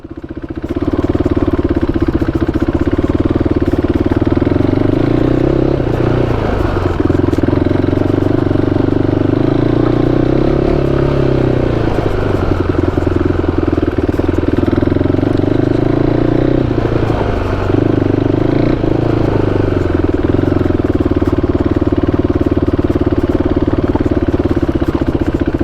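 A KTM RC390 motorcycle rides offroad with a continuous loud engine drone close by, its pitch rising and falling in slow waves as the throttle shifts, with rattling clatter throughout.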